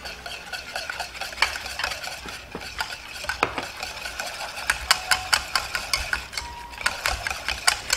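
Hollandaise sauce being whisked by hand for a cooking certification practical, a steady run of quick metallic scrapes and clinks against the bowl, close and fairly loud throughout with no talking.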